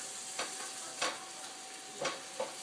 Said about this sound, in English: Onions are cooking. Put the bacon here.